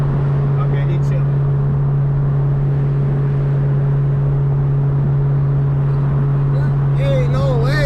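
Loud cammed Cadillac CTS-V being driven, a constant, heavy droning engine note held throughout, with a voice coming in near the end.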